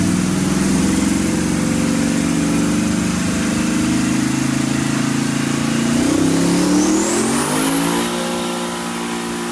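Race car engine with big injectors and a Magna Fuel 4303 pump, loud and steady near the mic, then revving upward with a rising whine in the last seconds, no talking.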